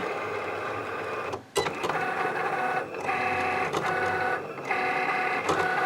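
A Cricut cutting machine slicing vinyl hums and whirs steadily with a high mechanical buzz, close and loud, with brief pauses and clicks as the carriage changes direction.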